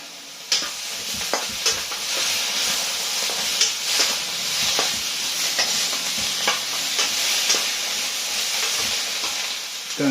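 Garlic and ginger sizzle loudly in a hot oiled pan with mushrooms, a continuous close hiss of frying dotted with crackles and stirring scrapes, and no voices over it.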